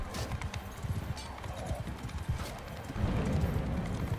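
Horse hooves clip-clop in a quick rhythm in the video game Mount & Blade II: Bannerlord, fairly faint, with a muffled low rumble and brief voices in the background.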